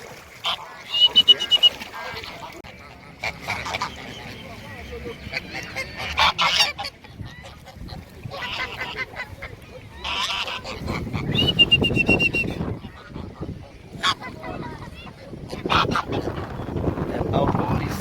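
Swans and other waterfowl at Zoo Lake in Johannesburg crowd around a boat while being fed, giving repeated honking calls in bursts over water and boat noise, with people talking nearby.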